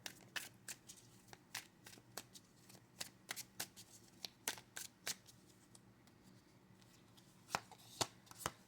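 A tarot deck is shuffled by hand, giving soft, close riffling snaps and card slaps in an uneven rhythm, faint and quiet, with no talking.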